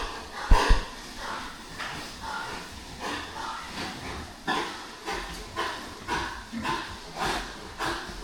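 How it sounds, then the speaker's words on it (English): Many pigs packed inside an indoor pig farm give off repeated rough, breathy coughs and snorts, a dozen or so irregular bursts at moderate volume against a hazy barn background. "You can hear the coughing."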